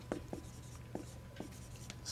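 A pen writes in blue during a math lesson on local minima and maxima, giving soft, sparse scratchy strokes at low level with no voices.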